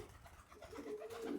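Bukhara pigeons cooing close by: soft, low throaty coos building and repeating over faint background noise, with no talk.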